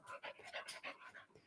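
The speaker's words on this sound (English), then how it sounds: "She's not hot. She pants like that all the time." A female dog pants steadily and rapidly at close range, a run of quick rhythmic breaths repeating through the whole moment, with no talk over it.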